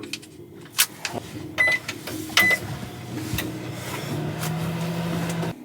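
A microwave oven runs inside a motorhome: a few clicks and knocks give way to a steady low mechanical hum, close and moderately loud, with no talk.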